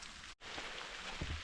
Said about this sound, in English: it looks like it's going to be a rain day all day today